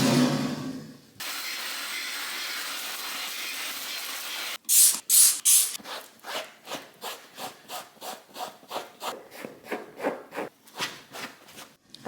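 Flash cleaning spray misted onto dining chairs by hand: a long steady hiss, then a few sharp close spray bursts, followed by a run of quick rhythmic rubbing strokes as the chairs are wiped down.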